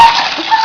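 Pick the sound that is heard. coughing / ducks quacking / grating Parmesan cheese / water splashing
water splashing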